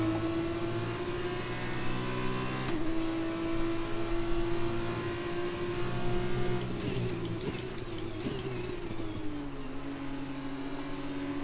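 F2 race car engine in a video game on a wet track holds a steady high whine, pitch shifting with throttle and gear changes, continuous and loud on its own.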